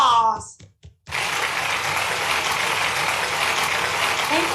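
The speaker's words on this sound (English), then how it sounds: "Let us give him with a big round of applause." Audience applause for an introduced official, the president of an adventure athletic federation, at a regional Asia Pacific event, beginning after a brief spoken lead-in and continuing as a steady, full wash of clapping.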